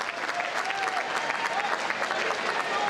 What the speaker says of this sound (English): he gets a nice round of applause for his courage from the crowd